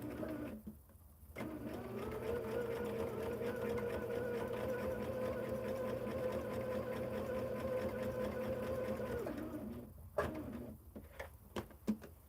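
A sewing machine stitches a seam on a hexagon patchwork quilt, running as a steady close whirring drone for about eight seconds, then stopping with a few clicks and knocks of fabric handling.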